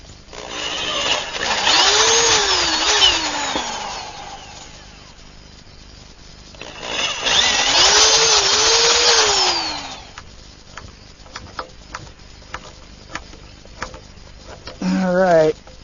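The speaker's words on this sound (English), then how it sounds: "First step is to drill some pilot holes." A power drill whines loudly in two bursts of a few seconds each, drilling pilot holes for stainless steel screws, speeding up and slowing down, followed by scattered clicks and handling noises.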